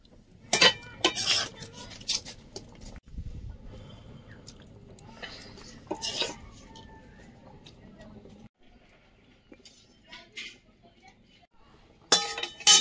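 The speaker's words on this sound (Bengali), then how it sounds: "প্রেসার কুকারে হাতায় করে দেবো" Cooked food ladled into a pressure cooker in a village kitchen, with intermittent sharp metallic clinks and scrapes of the ladle against the pot, separated by quieter stretches.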